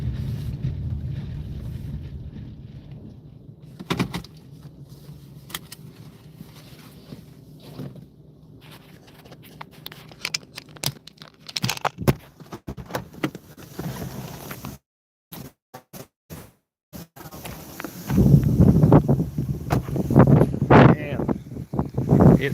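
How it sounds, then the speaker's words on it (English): Wind buffets a microphone outdoors along a county road, low rumbling gusts that swell and drop out, with louder bursts near the end and someone speaking at times underneath. "It is windy, so if you can't hear me because of the wind, I apologize"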